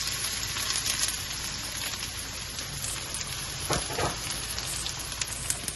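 Garlic and onions sizzle steadily in a hot pan while Alaska king crab is being cooked, a close, continuous frying hiss with occasional stirring crackles and no talking.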